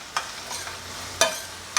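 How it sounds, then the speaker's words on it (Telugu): Onions frying in oil on low heat, a faint steady sizzle with a few sharp stirring scrapes of a spoon against the pan, close and alone. "ఉల్లిపాయ చక్కగా సిమ్లో వేయించుకుందాం"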